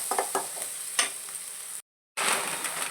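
Maggi noodle ingredients frying and being stirred in a pan, a close sizzle broken by scraping strokes, cut by a brief dropout before the hiss resumes.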